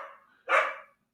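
A dog's bark sounds once, close and loud, a sharp single woof following a fainter, lower growl or whine.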